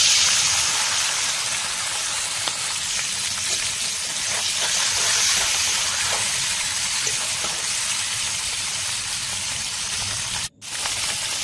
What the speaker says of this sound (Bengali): সরষের তেল দিয়ে মাছগুলোকে ভালো করে ভাজবো।